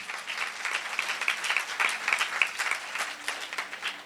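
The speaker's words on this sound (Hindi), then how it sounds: "जोरदार तालियां बजाओ यीशु" A church congregation applauding for Jesus during a Pakistani pastor's sermon, a moderate, steady patter of many hands clapping with faint whistle-like tones mixed in, somewhat distant and soft.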